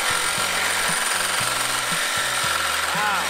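A power saw fitted with a conventional metal blade cuts through metal chain-link fence pipe, giving a loud, continuous grinding buzz with repeated pulsing strokes throughout.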